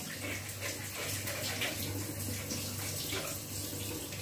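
Tap water runs steadily into a sink while a face is washed after waking, a constant close splashing wash with a low hum underneath, no talking.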